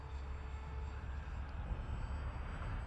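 A small RC plane with an external ESC mod cruises at half throttle, its motor giving a steady, even drone with no breaks over the whole stretch, with no voices present.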